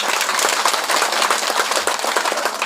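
Loud, dense crowd applause at a Democrat party political rally in Medan, a fast continuous patter of many hands clapping close by.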